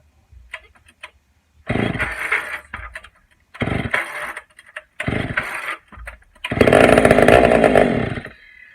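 Pioneer chainsaw engine sputtering back to life after long storage, with several short loud bursts of running separated by silences, then a longer rough sustained run near the end.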